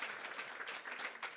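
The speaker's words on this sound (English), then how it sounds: "Everyone gets a clap." Faint, steady applause from a conference audience at a South by Southwest tech session, a soft wash of many hands heard at a distance with no voices over it.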